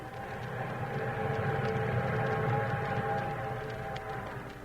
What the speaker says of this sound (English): Meanwhile, the eastbound train thundered on.